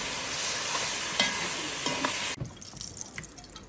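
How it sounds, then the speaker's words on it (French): Water poured into a pot of browning pork roast with tomato, a steady loud sizzle with a few clicks that cuts off abruptly partway, leaving quieter bubbling and faint stirring noises. "Après, on rajoute un peu de l'eau."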